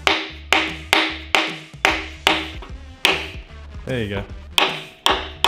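A dead blow hammer thwacks an engine block about a dozen times in a steady rhythm, close and sharp, with a brief voice between blows.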